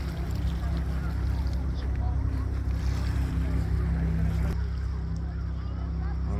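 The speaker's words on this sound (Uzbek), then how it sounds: "Shunaqa to'lqin kelyapti." Waves surge against the shore at Chorvoq, a steady, loud broadband roar mixed with wind buffeting the microphone throughout, with faint voices underneath.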